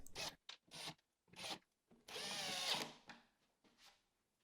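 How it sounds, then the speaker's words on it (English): A power drill pre-drills and drives screws into a wooden workbench top, loud close whirring bursts starting and stopping in short spurts with one longer run, separated by near silence. "I just pre-drilled and screwed down all of those pieces along the top"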